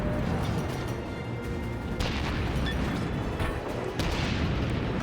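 Warship guns fire in World of Warships as heavy booming salvos, with sharp blasts at about two and four seconds over a constant loud rumble of battle noise.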